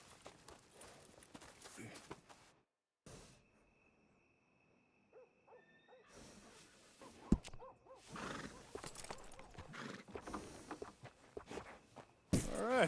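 A horse in the Red Dead Redemption 2 video game whinnies and snorts among sparse clip-clopping hooves, with quiet gaps, a faint owl-like hoot and a sharp closing burst.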